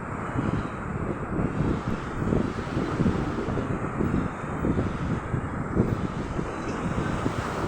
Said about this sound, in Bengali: সমুদ্রের ঢেউ পাড়ের দিকে চলে আসে মাঝে মাঝেই।